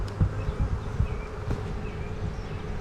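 A dense swarm of honeybees clustered under a hive, buzzing in a steady close drone with small surges and a few louder passes near the ear.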